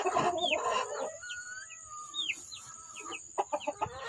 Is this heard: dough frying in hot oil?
no